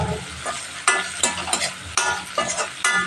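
Torn green chillies fry in a pan for prawn curry, giving a steady sizzle broken by several sharp scraping stirs of a utensil, close and clear with no talking.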